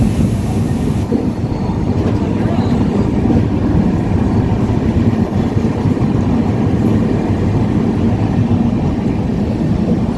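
Howrah to Katpadi express train no. 12863 runs at speed after leaving Rajahmundry, heard from inside a 3AC coach as a loud, steady low rumble and rattle that continues unbroken throughout.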